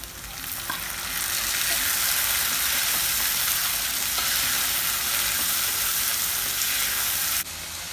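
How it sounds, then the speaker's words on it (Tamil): Continuous loud sizzling of onions and tomato frying in a pan for karuvadu thokku, with stirring noises, steady throughout and close by. "ரெண்டு 3 நிமிஷம் நல்லா வதங்கட்டும்"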